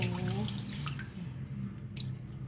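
Rinse water is poured off rice being washed for steamed sticky rice, a soft trickling and dripping with light splashes, faint and close, with no talk.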